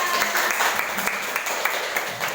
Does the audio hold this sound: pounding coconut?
no